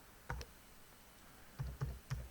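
Keys tapped on a computer keyboard while a word is entered into a testnet web form: one short pair of clicks, then three quick keystrokes a moment later, close and crisp in a quiet room.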